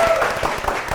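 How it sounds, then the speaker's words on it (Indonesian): Applause from a quiz show studio audience, a dense continuous patter of clapping filling the whole moment at steady volume. "kita kasih tepuk tangan dulu"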